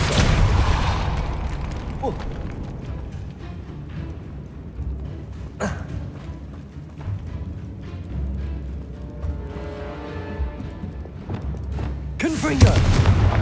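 A Depulsor spell cast in Hogwarts Legacy sets off booming blasts and sharp pops over a rumbling game soundscape, with one crisp impact near the middle and a loud burst at the end.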